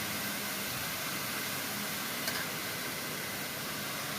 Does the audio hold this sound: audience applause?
no